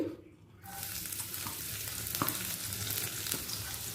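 Chopped garlic hits hot oil, bursting into a loud, bright sizzle after a brief quiet moment, then frying steadily with occasional stirring clicks.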